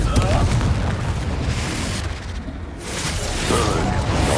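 A fiery Confringo spell blast in the Hogwarts Legacy video game lands as a loud, sustained rumbling boom with whooshing flames, while a voice speaks over the combat.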